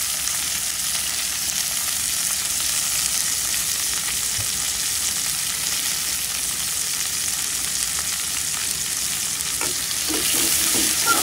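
Potatoes lightly frying with salt in a pan while cooking kachki fish chorchori, a loud continuous sizzle with stirring scrapes toward the end and no speech.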